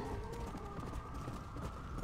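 Horse galloping across open ground in the Red Dead Redemption video game, a fast, steady clip-clop of hooves at close range, continuous and rhythmic over a faint game backdrop.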